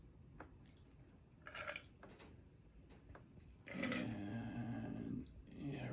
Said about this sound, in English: you take your strainer, if you have, if not, your lid, mason jar, or whatever, and you carefully pour it over ice